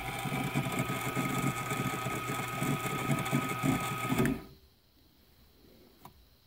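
A homemade Accu Finish style grinder set up for sharpening inserts hums and whirs steadily up close, then switches off abruptly, leaving near silence with a faint click afterward.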